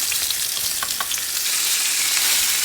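A tomahawk steak sears in butter and oil in a hot pan, giving a loud, dense, continuous sizzle and spatter heard close with no voices.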